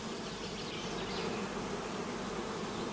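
Honey bees at a colony, a dense continuous buzzing hum of many insects, steady and fairly faint with no voices.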